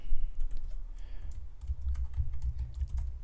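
Code is typed on a computer keyboard as a quick run of close, crisp key clicks with no voices.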